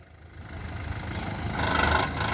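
A car's engine idles steadily during an uphill driving skill test, a low continuous hum that swells slightly toward the end, with no talking.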